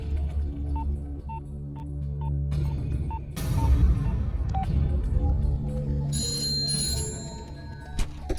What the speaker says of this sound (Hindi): घंटी बज रही है, कोई फोन नहीं उठा रहा है